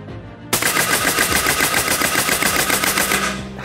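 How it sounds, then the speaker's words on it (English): An LCS Air Arms SK-19 airgun fires on full auto, a sudden, loud, rapid stream of pneumatic shots lasting about three seconds before it cuts off, with no talk. "we're gonna switch to full auto and see what it can do here at 20"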